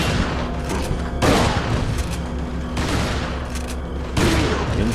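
Bursts of rapid gunfire in Resident Evil 4 crackle in heavy volleys, several loud clusters separated by brief lulls, with a constant background rumble.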